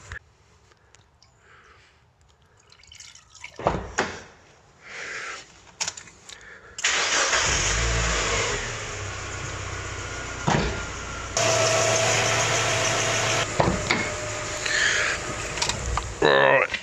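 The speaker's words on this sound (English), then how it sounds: "let it idle for a minute, kind of really thin the oil down" Mazda MX5 Miata engine cranking, catching and settling into a steady idle during a full oil service, loud and close with a mechanical hum, while a person talks over it.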